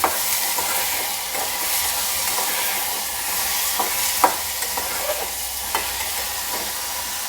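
Fresh field beans being sautéed in a pan, a steady close sizzle and hiss with occasional scraping stirs of a spoon, no talking.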